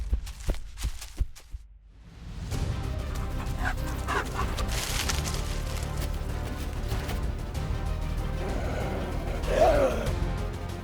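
A pack of African wild dogs (Lycaon pictus) on the grasslands gives short, sharp barks and yips, at first spaced apart, then blurring into a steady, busy chorus of high calls over constant rumbling noise.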